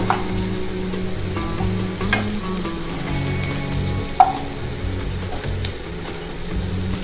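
Sliced onions fry steadily in oil for chowmein, an even close sizzle with intermittent spatula scrapes and one sharp tap, no speech over it.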